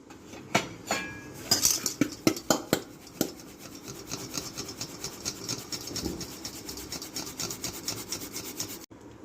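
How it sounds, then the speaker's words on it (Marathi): Poha, sago and rice flour are sifted through a metal sieve into a pan: several sharp knocks and taps come first, then a continuous scratchy rubbing and shaking, close and moderately loud. "हे साबुदाण्याचं पीठ आणि हे तांदळाचं पीठ आपल्याला छान असं चाळून घ्यायचं आहे"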